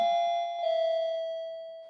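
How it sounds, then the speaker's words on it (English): A doorbell chimes once, a clear ringing tone that rings out and slowly fades. "It's our doorbell, sorry."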